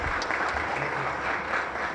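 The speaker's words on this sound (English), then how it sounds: "A big round of applause." A seated audience at a talk gives a short burst of dense, steady applause lasting about two seconds, close and fairly loud.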